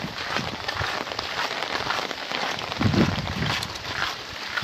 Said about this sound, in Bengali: এখনো বৃষ্টি থামার সম্ভাবনা দেখতেছি না।